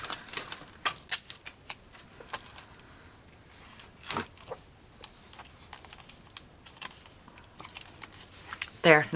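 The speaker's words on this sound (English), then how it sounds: "And then tape it with your Scotch tape." Scotch tape is pulled from the roll and pressed onto paper while a purse-shaped mini album is assembled, giving a series of close, crisp crackles and taps with a louder rip near the end.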